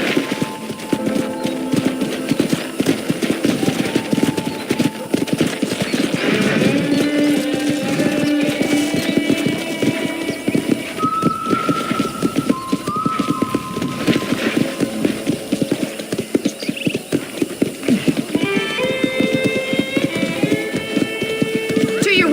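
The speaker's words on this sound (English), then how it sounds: "let's see if you can still ride a horse" Horse hooves clip-clop steadily during a ride in the video game Red Dead Redemption, a constant rhythmic trot under background music and wind while voices talk over it.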